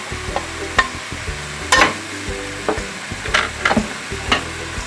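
Diced potato stirred in a frying pan for a meat pie filling, with scraping spoon strokes at an irregular pace over a soft background sizzle, close and clear, with no speech.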